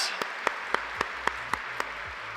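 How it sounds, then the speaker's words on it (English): Graduation ceremony audience clapping in unison: about eight sharp, evenly spaced claps in a steady rhythm over a quiet, low-humming hall. "A big round of applause for Bart!"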